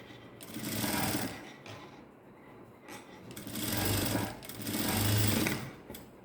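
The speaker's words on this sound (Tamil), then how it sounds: "எட்ஜிலேயே வச்சு தையல் போட்டுட்டு வாங்க" An electric sewing machine stitches along a blouse neck edge in several runs, a close rhythmic whirring hum that swells, pauses briefly and starts again, with no talking.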